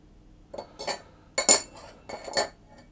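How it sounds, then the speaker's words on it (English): A utensil knocks and scrapes against a mixing bowl while folding wet ingredients into a dry mix to make a cheese and spring onion quick bread batter, giving four or five soft clinking bursts, close and fairly quiet. "I'm going to gently fold it together until it all comes into a batter."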